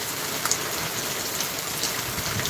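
Heavy rain pours down without wind as a steady, dense hiss, close and fairly loud, with a few slightly brighter spatters across its short span and no voices.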